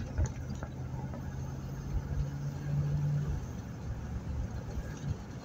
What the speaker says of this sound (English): Look at that Publix truck.